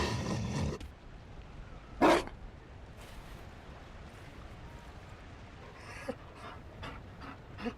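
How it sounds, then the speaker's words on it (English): A Mabari war dog in Dragon Age Inquisition pants in quick rhythmic bursts, with a short loud huff early and a few softer breathy puffs later over a quiet game background. "You found a dog."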